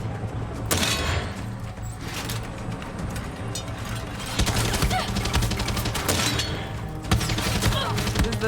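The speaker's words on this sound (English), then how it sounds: "Trying to shoot the pilot." Pistol gunfire in the Far Cry 6 video game, a dense stretch of sharp shots and impacts over a busy game soundscape with low background music and effects, loud and continuous.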